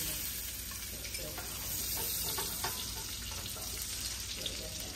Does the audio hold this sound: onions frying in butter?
yes